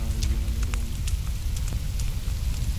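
Steady rain falls in the survival game The Forest, a dense broadband wash with scattered sharp droplet ticks, continuous and moderately loud with no talk over it.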